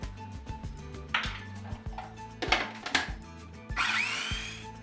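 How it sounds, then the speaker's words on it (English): A food blender whizzes dates and Sweet Freedom syrup into a sticky paste in short bursts, motor surging and rattling between quieter knocking pauses, close by, with no talking. "And now we're just going to whiz it all up again."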